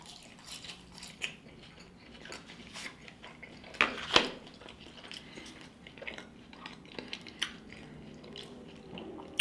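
Close, quiet chewing of a Wendy's Ghost Pepper sandwich, with soft squishy bites and a couple of sharper crunchy moments in the middle, heard alone against faint background noise.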